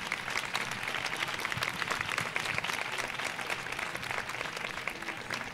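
A seated audience at a feminist talk claps steadily for several seconds, a fairly faint, even patter of many hands with no voices over it.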